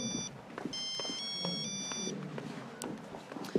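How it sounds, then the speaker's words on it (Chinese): A mobile phone rings with an incoming call, a short repeating electronic tone pattern heard faintly in an indoor room, followed by a few small knocks and rustles. "这谁呀？ 总打电话，我接一下，小总。"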